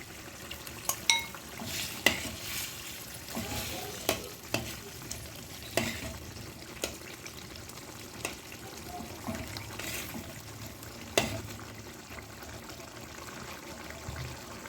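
Paneer chutney simmers in a pan with paneer added, a soft, low sizzle broken by occasional spoon clinks and stirring scrapes against the pan.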